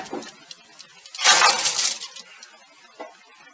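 Glass clinks as a dish goes into an oven: a small tap, then a brighter, louder rattle of glass lasting about half a second, and a final faint clink, with quiet room tone between.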